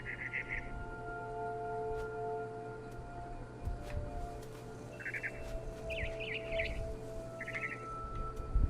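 In the video game What Remains of Edith Finch, a barn swallow chirps in short, bright bursts of rapid twitters spread across a quiet ambient hum, each burst brief and moderately close.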